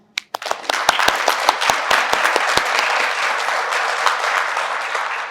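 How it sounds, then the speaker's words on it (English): At a registry unveiling ceremony in a museum, a few sharp individual claps start things off and quickly swell into a full, sustained round of audience applause. "give yourselves a big round of applause"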